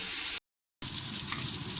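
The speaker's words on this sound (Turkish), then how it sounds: "ikinci postayı kızartıyoruz şimdi köfteleri" Meatballs fry in a pan with a loud, steady crackling sizzle that briefly cuts out to silence, then resumes just as strong.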